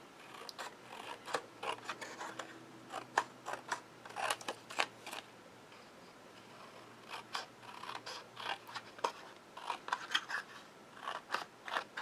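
Scissors snip through a handmade paper stencil, a quick series of sharp crisp cuts in irregular bursts, close and fairly quiet with no talking.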